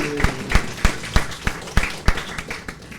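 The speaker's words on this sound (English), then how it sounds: "A round of applause again, everyone." An audience at a 10th anniversary celebration claps in a sparse, uneven patter of distinct hand claps rather than a dense roar, fading slightly toward the end.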